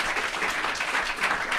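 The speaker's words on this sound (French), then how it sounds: "on peut applaudir" A live audience at a poetry event applauds in a steady, dense patter of clapping that fills the short stretch at an even level with no talk over it.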